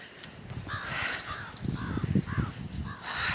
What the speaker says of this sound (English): You hear the crows? They're saying hi to you.